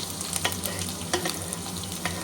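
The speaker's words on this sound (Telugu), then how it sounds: "ఆయిల్ వేడయ్యాక ఉల్లిపాయలు వేసుకోవాలి, వెల్లుల్లిపాయలు, తర్వాత పచ్చిమిర్చి" Onions, garlic and green chilies frying in hot oil, a dense crackling sizzle with a few sharper spattering pops, close and steady for a couple of seconds.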